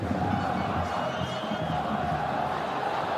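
A football stadium crowd at a Jordan versus Uruguay World Cup qualifier keeps up a dense, steady roar, with a commentator talking over it.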